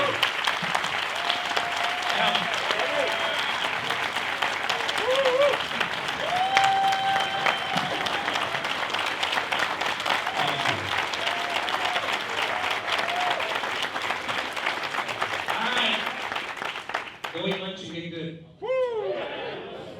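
An audience gives sustained, loud applause for Tom Blair at a Lunch with Legends event, clapping steadily for many seconds before it thins out into voices and light laughter.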